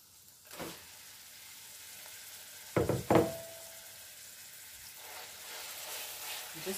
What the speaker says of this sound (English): So now I'm going to add my mince.